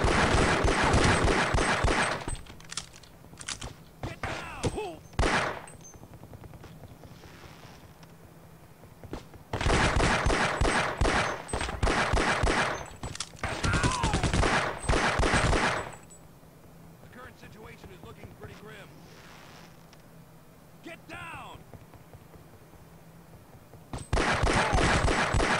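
Gunfire in Half-Life: Opposing Force comes in long, loud automatic bursts with quieter gaps between them, and someone talks during the pauses.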